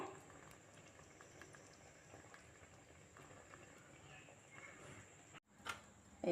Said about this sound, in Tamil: இது மண் சட்டிங்கிறதுனால கொஞ்சம் நேரம் கொதிச்சு தான் அடங்கும்